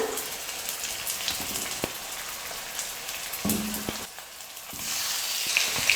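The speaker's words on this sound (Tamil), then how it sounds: "இஞ்சி பூண்டு விழுது சேர்த்து 1 நிமிஷம் நல்லா வதக்குனதுக்கப்புறமா மிக்ஸ் பண்ணி வச்சுருக்கிற சிக்கனை சேர்த்துக்கலாம்." Marinated chicken sizzles and fries steadily in a pan over a medium flame after ginger-garlic paste, a continuous crackling hiss with a few stirring scrapes, close and fairly loud with no talk.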